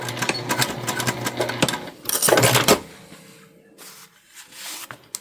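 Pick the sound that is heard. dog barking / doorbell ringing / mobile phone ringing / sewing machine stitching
sewing machine stitching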